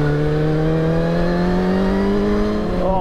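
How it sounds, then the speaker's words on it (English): A Suzuki GSX-R1000 motorcycle engine with 100,000 miles hums loudly and steadily, its pitch creeping slightly upward, with no talk. "Oh, I love the way this engine sounds."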